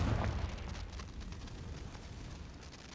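A Confringo blasting spell in Hogwarts Legacy bursts with a loud boom at the start, then a rumbling, crackling roar of fire and debris trails off steadily, with no talk.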